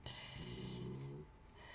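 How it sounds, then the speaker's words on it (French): A French bulldog snores in a soft, close rasping rhythm, one drawn-out snore rising and then trailing off, quiet and alone. "C'est le chien qui ronfle."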